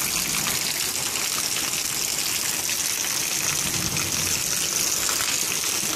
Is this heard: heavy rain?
yes